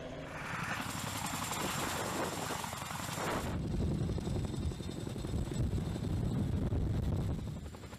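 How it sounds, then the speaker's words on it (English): A heavy-lift US Marines military helicopter roars close by, loud steady rotor and engine noise buffeted by wind on the microphone, the sound shifting abruptly partway through to a heavier, lower throb. "the helicopters doing the lifting have only gotten larger and more powerful"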